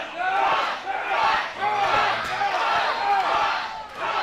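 A wrestling crowd at a tag-team match roars in support after a chop, loud and sustained, with chanting voices swelling and dipping and a thud from the ring.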